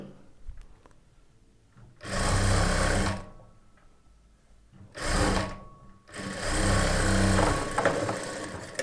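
A sewing machine stitches main fabric and lining together in three loud bursts of steady whirring, separated by short quiet pauses, with no talking.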